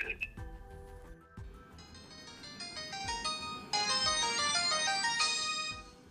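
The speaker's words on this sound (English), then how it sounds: "I just got woken up by my pay-as-you-go phone ringing" A pay-as-you-go mobile phone rings with a bright electronic melody of repeating tones that grows fuller and louder, while a voice speaks faintly underneath.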